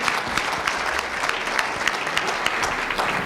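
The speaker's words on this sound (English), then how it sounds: "A round of applause for the session panelists." Steady applause from a conference audience for session panelists, dense clapping at an even level throughout with no voices standing out.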